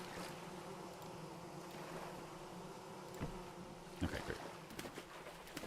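Bees buzz steadily around a populated skep in the video game Vintage Story, a faint continuous drone with a few soft thumps and a brief spoken remark over it.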